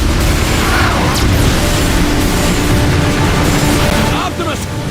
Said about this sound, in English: Decepticon warp cannon!